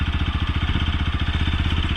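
A motorcycle engine runs steadily as the clutch is released and the bike begins to move off, a close, continuous low pulsing throb with no talk over it.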